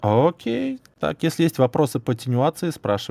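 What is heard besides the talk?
No everyday noise stands out behind the speech.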